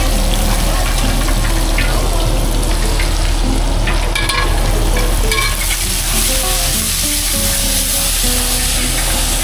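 Three curries cook at once on three stoves in a toddy shop kitchen, including chicken: steady loud frying and sizzling with intermittent scraping and stirring of ladles in pots, continuous and close.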